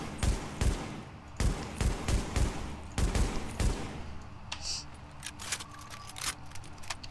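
Light machine gun firing in The Division, loud rapid bursts of shots for about four seconds, then fainter scattered distant gunfire.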